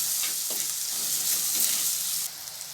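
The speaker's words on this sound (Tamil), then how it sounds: "மசாலா எண்ணெயிலே அப்படியே குக் ஆகி வரட்டும்." Masala spices fry in hot oil for a cauliflower pepper fry, a dense continuous sizzle with faint stirring scrapes, close and steady throughout without talking.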